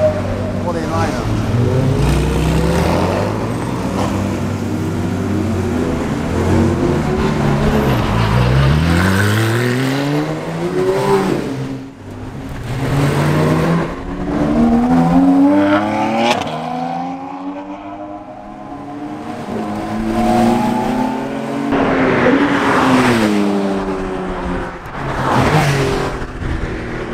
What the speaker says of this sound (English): Porsche are getting ready to take off.